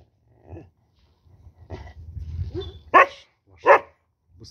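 A sighthound gives low growls building into a rumbling snarl, then two sharp, loud barks near the end, close and separated by quiet gaps.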